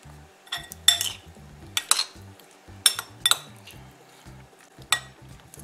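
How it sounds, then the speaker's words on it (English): Intermittent sharp knife clicks against a cutting board while cutting broccoli into small pieces, several irregular chops with quiet pauses between them, close and clear. "Cutting my broccoli up to smaller pieces."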